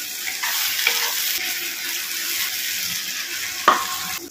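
Onion, ginger, garlic, chili and tomato paste sautéing in a pan, a steady close sizzle with a few stirring scrapes and clinks.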